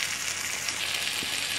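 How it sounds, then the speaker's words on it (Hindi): Green and red capsicum with potatoes fry in masala, giving a steady, even sizzle with a soft hiss that continues without pause and no voices. "वेजिस को हमने मसाले में अच्छी तरह से भून लिया है"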